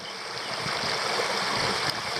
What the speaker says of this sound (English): And there's the falls through there.